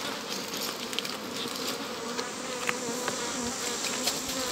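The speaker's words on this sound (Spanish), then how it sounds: "Mire cómo está aquí abajo esa colmena." Africanized honeybees swarm around a beehive in an apiary, a steady dense buzzing hum with individual bees passing close, moderately faint and continuous throughout.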